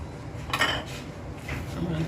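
A spoon stirs a jaggery mixture in a cooking pot for sweet pongal, giving a few soft metallic scrapes and clinks against the pot, fairly quiet, with no voice over it.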